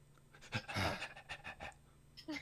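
A person in a Dungeons and Dragons session imitates a panting dog: a close, quick run of rhythmic breathy huffs that swell in the middle and then trail off into softer gasps.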